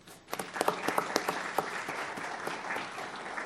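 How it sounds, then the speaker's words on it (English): Applause for four school finalists at a board meeting: a scattered burst of individual claps that quickly fills into steady, moderately faint clapping. "Let's give them a round of applause."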